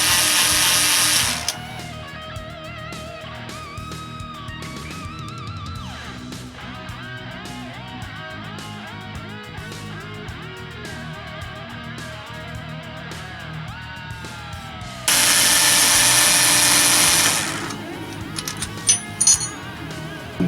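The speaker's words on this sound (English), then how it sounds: "now the smaller bolts, they've already been loosened up, so I can just simply take them off" Bolts on a Suzuki RF motorcycle engine case are backed out with a hand ratchet: steady rapid clicking with metallic tool clatter, and a louder noisy burst partway through.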